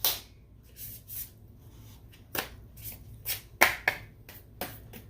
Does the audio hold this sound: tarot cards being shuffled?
yes